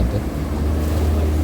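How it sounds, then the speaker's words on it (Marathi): A boat pushes through strong waves in the Nayra passage between rock patches off Vengurla on the Konkan coast. The engine rumbles low and continuously, with a loud rush of wind and water close by. "नायरा पॅसेज इथे लाटा पण जोरात आहे."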